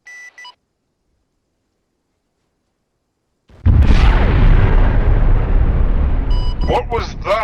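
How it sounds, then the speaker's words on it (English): A massive plasma explosion in the military shooter game ArmA 3 erupts after brief electronic beeps and a silence, turning into a loud, sustained, rumbling roar that rolls on for several seconds before some sharp blips break in at the end. "I just heard like the biggest plasma explosion ever"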